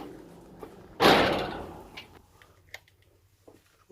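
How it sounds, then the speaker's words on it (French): A garage door at a home opens with one loud, close rumbling burst that slowly fades over about a second, followed by a few fainter clunks and knocks. "J'ouvre le garage, les amis."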